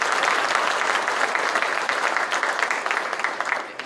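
Sustained applause from an audience at a police department awards ceremony, a dense, steady wash of many hands clapping that lasts throughout and fades slightly at the end.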